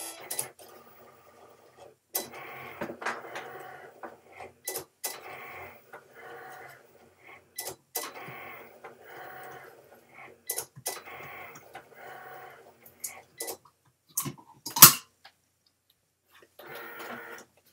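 A Cricut or Silhouette cutting machine working through thick material, its carriage giving intermittent bursts of whirring and clicking separated by short pauses, with one sharp loud snap near the end; moderately close and no talking.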